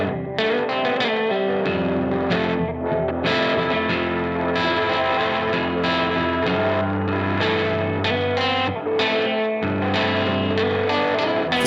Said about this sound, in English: Try a reverse delay here.